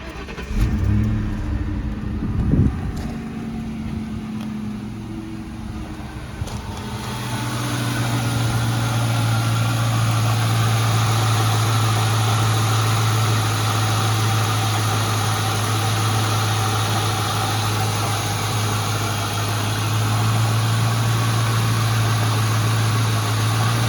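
Ford Mustang GT 4.6L 2V V8 idling smoothly after a serpentine belt replacement, a steady low engine hum that settles in after a brief start-up noise and continues evenly at close range.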